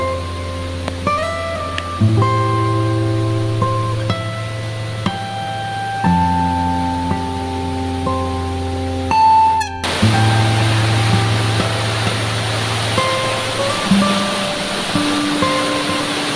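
Rushing water from a waterfall makes a steady broadband roar that swells louder partway through, mixed with sustained melodic music tones.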